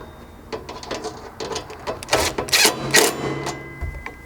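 A ratchet snugs up bolts on a Bronco 4-door rear overhead MOLLE panel, heard as close bursts of quick clicking with short pauses between the strokes.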